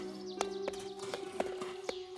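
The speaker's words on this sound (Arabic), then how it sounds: "بل إنها أخذت حصانها فلادا وامتطت الأميرة الحمار" A donkey ridden slowly in a cartoon gives off steady, evenly spaced hoof clops, crisp and close, over a sustained low musical tone.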